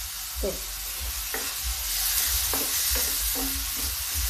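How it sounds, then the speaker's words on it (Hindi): Onions and fenugreek leaves sizzle steadily in a hot pan, with a spoon scraping and stirring in several distinct strokes over the frying hiss; a voice briefly speaks. "अभी प्याज हल्का सा भून जाए"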